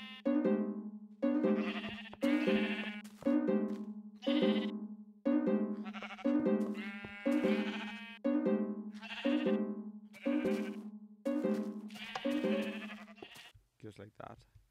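A steady run of short, bright synthesized video game note block notes, about a dozen in a regular rhythm, with a brief scrappy flourish at the end.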